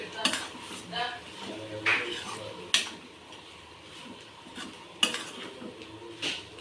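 A utensil stirs and scrapes chicken fry in a pan with a few sharp metallic clinks and scrapes at irregular intervals over a faint background, quiet and close.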